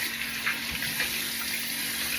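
Tap water running steadily into a sink during handwashing after a shave, a close, continuous splashing rush with faint drips and no talk.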